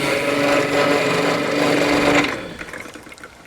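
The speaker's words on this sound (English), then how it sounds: "So this juicer is amazing." An electric citrus juicer squeezes fresh oranges with a loud, steady grinding whir for about two seconds, then cuts off, leaving a few faint clicks and handling noises.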